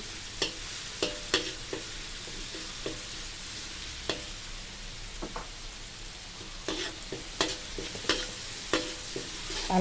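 Pickled bamboo shoots stir-fried in a pan with chili and salt, a constant sizzle cut by sharp spatula knocks and scrapes at an uneven pace, close and with no talking.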